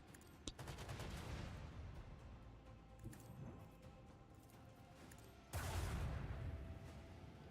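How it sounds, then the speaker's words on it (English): Torpedoes firing in a space video game, a sharp launch burst followed by sustained roaring whooshes, with a second loud blast swelling near the end, all fairly faint. "Oh, I shot the torpedoes instead of the ship."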